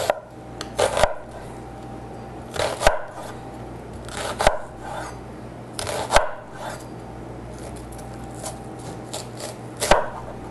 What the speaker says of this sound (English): And I'm just going to chop the onion up